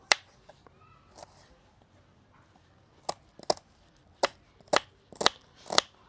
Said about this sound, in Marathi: आता कांदा बारीक चिरून घेऊ